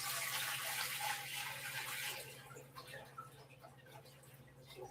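Just over three liters of water pours into a cast iron pot for a corned beef brine, a loud steady splashing rush that tapers off into faint drips and small ticks.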